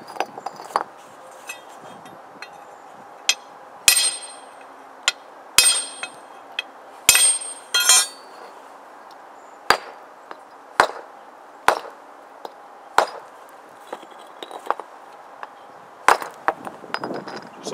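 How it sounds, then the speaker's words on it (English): A brick is scored with a hammer and a straight-edged crowbar to break it for a DIY rocket stove: sharp, ringing metal-on-brick strikes land one at a time at irregular intervals, some in quick pairs, loud and close. "But you can use a screwdriver, like I said, or a cold chisel, and just score it, and it breaks right in half."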